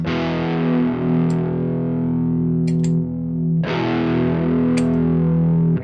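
An electric guitar played through a Quad Cortex with a stereo pitch-detune widening effect, two sustained distorted chords each ringing out with a shimmering chorus-like spread, plus faint pick and string noises in between.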